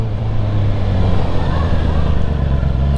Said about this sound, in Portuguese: Agora essa embolada de marcha aqui de na hora que tira a mão do acelerador é bonita demais.